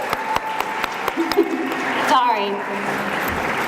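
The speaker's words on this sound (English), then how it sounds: "And can we give them a round of applause?" Banquet audience at a high school sports awards night applauding the girls tennis team, a steady wash of clapping that builds and holds, with a voice speaking over it.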